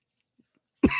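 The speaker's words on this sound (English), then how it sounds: "I'm sorry about the cough. My throat's scratchy." A single sharp cough from a scratchy throat bursts out after near silence, loud and close, alone with no talk.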